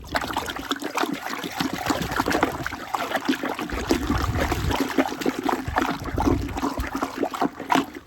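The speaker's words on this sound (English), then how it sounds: "I got a brush in here. I'm going to stir it up." Brush swishing and stirring thick, slightly foaming rinseless car wash solution in a measuring cup, giving close, steady wet sloshing and trickling strokes with no talking.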